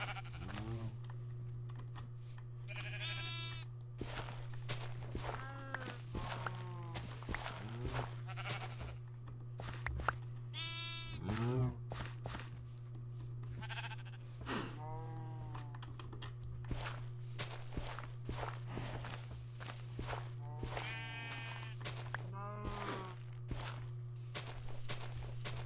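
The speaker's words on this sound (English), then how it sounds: "This sheep really wants out." Sheep bleating in the Minecraft video game, several separate wavering baas scattered over a steady low hum, alongside soft clicking and footstep taps.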